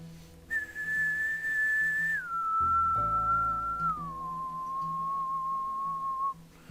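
A person whistles a clear steady tone, holding one pitch then stepping down twice to lower sustained notes, close and alone with faint background hum.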